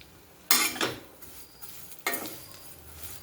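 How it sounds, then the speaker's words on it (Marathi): Vermicelli is stirred as it roasts in ghee in a pan for sevai kheer. Two bright scraping, rustling strokes of the spoon sound close and clear, each trailing off. "आता ह्या शेवयाही आपण या तुपामध्ये भाजून घेऊया"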